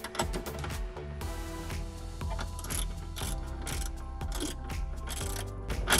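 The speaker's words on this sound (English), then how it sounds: "fully seat that down with your socket wrench" A socket wrench tightens a nut over an oversized flat washer onto a bolt while fitting a JL Audio stealthbox in a Jeep Wrangler JL 4-door, giving rapid close ratcheting clicks in repeated bursts.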